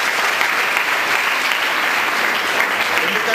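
A large audience claps continuously at a public gathering, dense and loud throughout, with no other sounds standing out.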